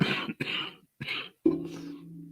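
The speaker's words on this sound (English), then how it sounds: "Sorry about the cough." A few short, rough coughs in quick succession, close and fairly quiet, with a throat-clearing tone and brief silences between them.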